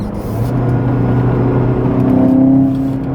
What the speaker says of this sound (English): this car sounds nice when you get into it